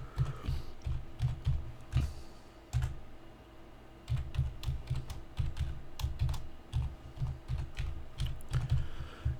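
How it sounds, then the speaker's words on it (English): A password typed on a computer keyboard, quick close clicking keystrokes in uneven bursts over a low background hum, no talking. "Type in his super secret password."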